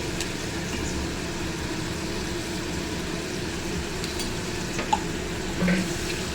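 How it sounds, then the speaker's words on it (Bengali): Water runs steadily from a tap as a small metal spice bowl is rinsed out in a home kitchen, a faint continuous wash with a couple of brief clinks near the end. "এবার আমি বাটিটা ধুয়েও দিচ্ছি"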